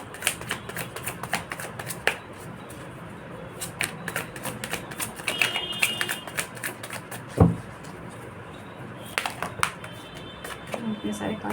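Tarot cards are shuffled in quick, light riffling clicks and soft taps, close and fairly quiet, with a few louder knocks and brief pauses.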